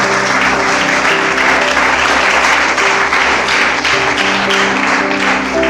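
A church congregation applauds loudly and steadily for several seconds, a thick wash of clapping over sustained background music or organ tones.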